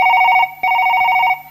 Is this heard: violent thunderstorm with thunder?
no